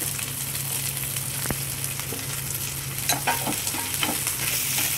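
Chopped onion sizzles steadily in hot oil in a pan while a spoon stirs it with scraping clinks, a continuous close frying hiss with no voices.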